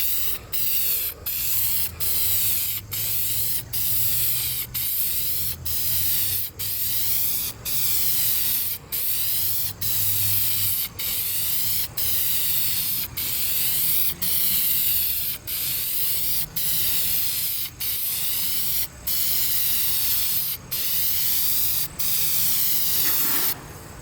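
VHT Niteshade tint is sprayed from an aerosol can in a heavy second coat for tinting windows. A loud, continuous close hiss runs throughout, broken by many brief, regular pauses between passes.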